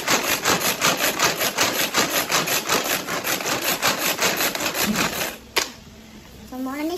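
A food grinder chops chicken ingredients for spicy buffalo chicken, loud rhythmic pulses repeating in quick regular strokes for several seconds, then a sharp stop and quieter handling sounds.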